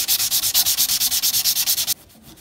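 Puukko knife blade being sanded by hand with no power tools, making rhythmic back-and-forth abrasive rasps, about fifteen even close strokes, then stopping.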